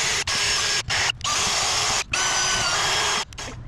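A drill spins a nylon abrasive wheel that strips paint from a car wheel, giving a loud, close, continuous high whine broken by a few brief pauses.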